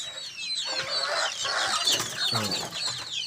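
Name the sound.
chickens clucking on farm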